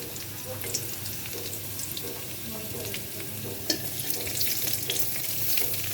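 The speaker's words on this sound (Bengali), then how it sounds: "এই রসুন দিই তেলত" Garlic frying in hot oil for a home-cooked tempering, with steady close sizzling and light stirring throughout, no talking.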